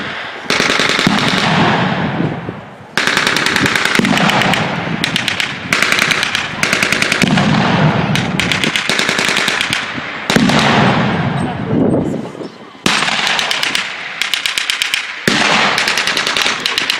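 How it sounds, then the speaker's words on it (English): Loud World War I reenactment battle: bursts of machine-gun fire and rapid rifle shots rattle almost continuously, broken by short pauses and heavy artillery booms, with someone talking intermittently over the gunfire. "The Germans are counter-battery fire to try to suppress the American positions. The Americans are responding with trying to suppress the German positions and take out the machine gun positions."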